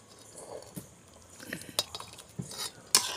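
A spoon scrapes and clinks against a pot as chicken biryani is stirred over a wood fire, giving scattered metallic knocks and scraping sounds at close range, with a sharper clank near the end.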